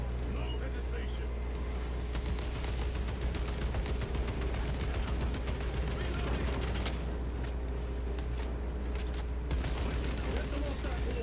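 Sustained battlefield gunfire from the video game Space Marine 2, a dense continuous roar of shots and mechanical clatter with a steady low rumble underneath, loud throughout with no pause.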